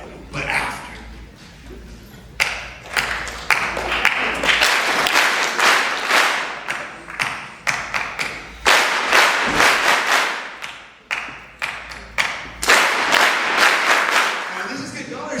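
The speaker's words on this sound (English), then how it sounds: "All right, I'm going to start with an easy rhythm. And don't clap with me. Clap after me." Audience at a school assembly speaker event clapping back short rhythmic patterns, bursts of loud group claps separated by brief pauses, repeating across the stretch with crowd noise between.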